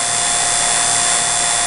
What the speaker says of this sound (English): Vacuum pump, pumping away here